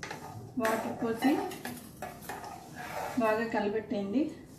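A utensil scrapes and clinks against a metal pot while foxtail millet and water are stirred, in a few quick clattering bursts close by, with a voice heard faintly alongside.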